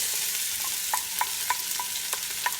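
Chopped Spanish onion sizzles in hot avocado oil in a pan, a steady soft frying hiss broken by faint, regular stirring clicks and taps, fairly quiet and with no talk.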